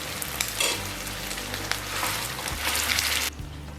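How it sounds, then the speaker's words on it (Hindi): Aloo tikki potato patties sizzle and crackle steadily as they shallow-fry in a pan, pressed down to crisp. The frying stays loud and close throughout, with no talk. "अब हम इसको दबाते अच्छा सा क्रिस्प इसको फ्राई करेंगे।"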